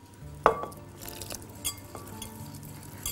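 Batter of eggs and milk for an English sausage pie being stirred in a bowl, a sharp clink of utensil against the bowl followed by softer scraping and tapping, close and quiet with no voices.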